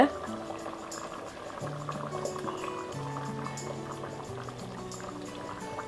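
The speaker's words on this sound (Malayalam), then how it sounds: "ഇനി നമുക്ക് തേങ്ങ ഒഴിച്ച് കൊടുക്കാം" Finely ground coconut is poured into a boiling Kerala tuna (choora) fish curry, giving a close bubbling, liquid pour throughout while a person talks over it.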